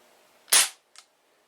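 A Crosman 1377 pump air pistol, pumped ten times, fires a 5.5 grain Prometheus wadcutter pellet: one sharp, loud close crack followed by a fainter short impact, then silence.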